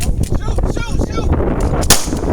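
Several pistol gunshots ring out during a self-defense shooting drill, loud sharp cracks spaced irregularly over a few seconds, with one especially strong report near the end and a noisy outdoor background.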